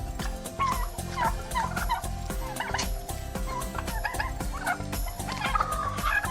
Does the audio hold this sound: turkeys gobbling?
yes